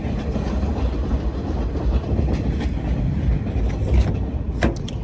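A train rumbles past nearby, a loud low roar with rhythmic clacking of wheels on rails, steady throughout.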